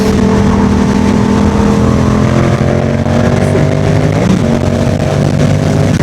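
A Yamaha MT-07 motorcycle fitted with an upgraded R6 throttle tube runs loud and close, its engine droning steadily with slight pitch shifts throughout, no voices present.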